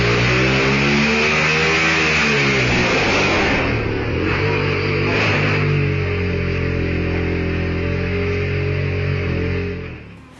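A motorcycle engine revs loudly and steadily up close, the pitch climbing and falling through the first few seconds before settling into a sustained high drone that cuts off abruptly at the end.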